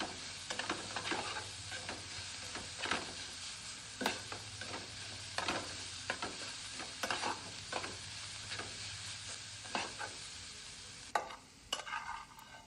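Hot tempering oil poured over mashed potatoes for vada pav chutney, giving a continuous soft sizzle with scattered scraping and stirring clicks, fairly quiet, no voices.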